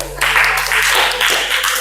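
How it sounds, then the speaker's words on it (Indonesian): Audience applause in an Indonesian training session after a group presentation, a steady burst of clapping starting abruptly and holding at moderate loudness throughout, with no talking over it. "Berikan tepuk tangan."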